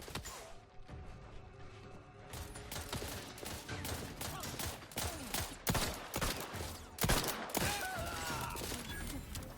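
Revolver gunshots in The Outer Worlds 2, a dense run of sharp, loud cracks in quick succession that grows busier and more intense toward the middle, with faint game ambience between shots.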